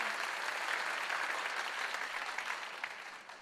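A church congregation at an online Ascension Day worship service bursts into loud, sustained applause, a thick wash of clapping that stays full throughout and fades a little at the close.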